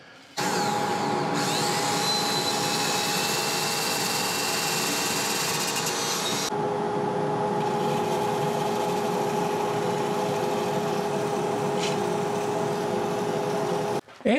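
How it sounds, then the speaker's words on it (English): A 2-inch sander working the inside of a turned sycamore and bamboo vase, a steady close whirring hum with a whining edge that runs almost unbroken for about fourteen seconds, with no talk. "I think on the inside here, I'm going to be using a 2-inch sander like this."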